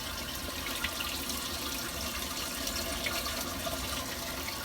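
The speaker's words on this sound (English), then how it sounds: "You can hear the water running." Water runs steadily through a Tower Garden hydroponic growing tower, a constant close trickling and splashing hiss with no pauses.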